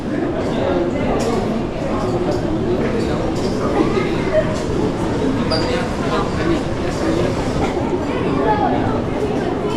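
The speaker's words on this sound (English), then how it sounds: "So these are the trains from a distance." A continuous low rumble of a train moving in the distance blends with crowd chatter and voices in a busy Kenyan SGR railway station.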